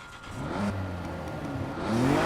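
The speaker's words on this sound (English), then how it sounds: "let's see what the engine sounds like" A Nissan Skyline engine in Need for Speed Heat revs up steadily, its pitch climbing toward the end, with a constant mechanical whir and no voices.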